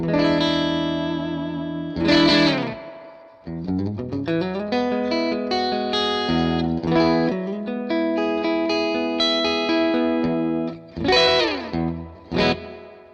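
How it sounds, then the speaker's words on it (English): Electric guitar through an amp with heavy spring reverb and echo, chords and single notes ringing out with long washy tails; no voices. "you listen to the reverb on an amp"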